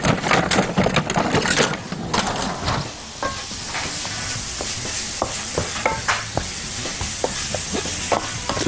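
Plenty of onions fry loudly in a pot with a steady sizzle while a spoon stirs and scrapes through them. The stirring is heavy at first, then gives way to lighter, scattered clicks over continuous frying.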